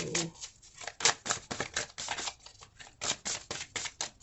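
Tarot cards shuffled by hand in a steady run of crisp riffling bursts, close up, with no talking over them.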